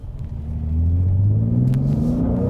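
A 2020 Mercedes-AMG GLC43 engine revs up from idle into a loud, sustained rising growl that holds steady, heard close with no talking.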